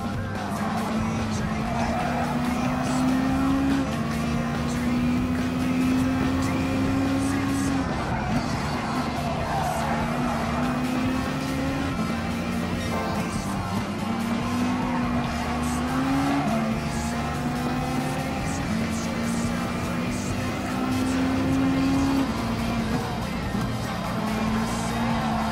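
Race car in Gran Turismo Sport holding a steady engine drone through a curve, pitch dipping and climbing with gear changes, faint tyre squeal mixed in, continuous and close throughout.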